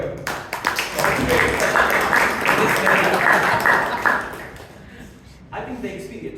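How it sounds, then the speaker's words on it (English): Applause at a Toastmasters meeting for a speaker named Shreyas, a continuous crowd clapping that holds steady for several seconds before fading, then a brief renewed patter. "A round of applause to Shreyas here."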